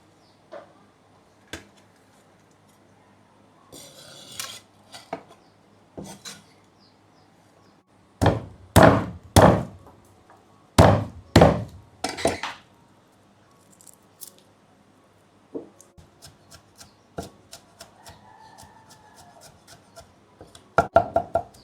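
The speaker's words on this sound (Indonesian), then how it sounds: "Sudah selesai dicincang" Ingredients for kue talam ebi, a dried-shrimp steamed cake, roughly chopped with a knife on a board. Loud clustered knocks come in quick bursts, separated by quieter gaps with faint, sparse taps.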